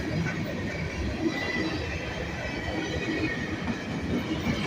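Norfolk Southern freight cars roll past at night in Columbiana with a steady rumble, rhythmic clickety-clack of wheels on rail joints and light squeal, close and continuous.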